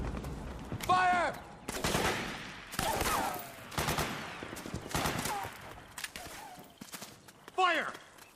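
Gunfire in the video game Metal Gear Solid 4: irregular bursts of sharp shots and volleys, close and loud, broken by shouted voices between the bursts.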